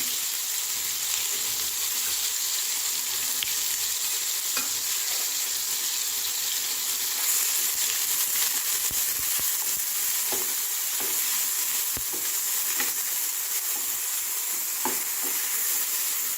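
Onion paste frying in hot oil, a continuous loud sizzle with steady crackling and occasional faint taps of a spoon against the pan, heard close with no voices.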